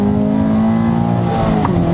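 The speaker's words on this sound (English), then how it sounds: "Boxer engine has a really unique sound as you go up through the gears." A 2017 Toyota 86 boxer engine pulls hard through the gears, a loud, continuous droning note with steady harmonics heard from inside the car, shifting pitch slightly near the end.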